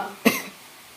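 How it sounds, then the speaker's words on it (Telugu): A single short cough from a child, sharp and close, followed by quiet room tone. "మా చిన్నోడికి దగ్గు వస్తుంది"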